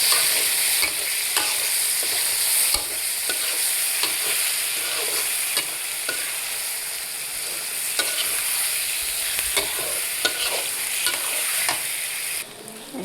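Japanese fish frying in a pan for bharta, with a loud, continuous hiss and sizzle close by and the repeated scrape and clack of a spatula stirring throughout.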